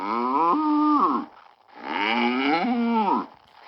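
Two long, drawn-out cow moos follow one another with a brief pause between, each loud and close with a rising then falling pitch, and no one talking over them.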